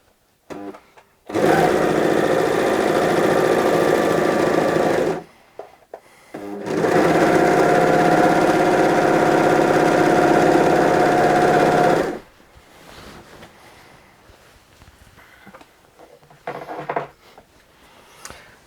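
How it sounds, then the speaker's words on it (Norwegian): An overlock serger runs close and loud along a jacket seam in two long continuous bursts separated by a brief pause, followed by quieter handling sounds. "nå skal jeg overlokke, sånn at dette blir en litt flatere søm"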